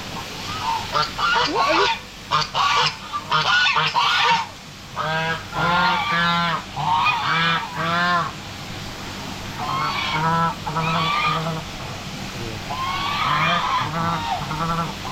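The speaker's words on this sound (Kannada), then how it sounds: "ಎಷ್ಟೊಂದು ನವಿಲುಗಳಿದೆ" Loud, repeated honking calls of peacocks ring out in bursts, several birds calling in quick succession close by, with a steady background hiss.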